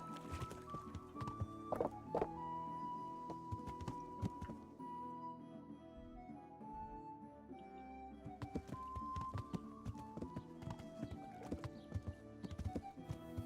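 Horse hooves clip-clop at a walk in Kingdom Come: Deliverance, a steady rhythm of close hoofbeats over game music and ambience, with a brief whinny.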